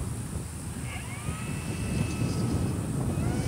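An E-flite DRACO 2.0m RC airplane flies overhead with a steady, moderately loud motor whine, the pitch sliding as it passes, mixed with constant wind noise on the microphone.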